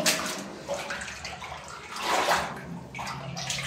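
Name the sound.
running water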